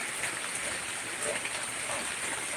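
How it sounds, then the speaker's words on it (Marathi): Heavy rain falling steadily outdoors, a continuous dense hiss with faint background murmur beneath it. "आता पाऊस चालू आहे"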